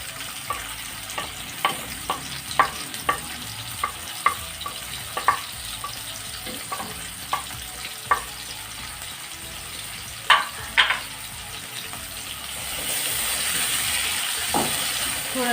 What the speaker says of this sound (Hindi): तो अब मैं इसमें प्याज डालूँगी। प्याज को मुझे लाल नहीं करना, बस हल्का सा करना है